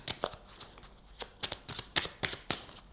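Oracle cards shuffled by hand in a quick series of crisp riffling bursts and soft slaps, close and clear with brief pauses between, no voices.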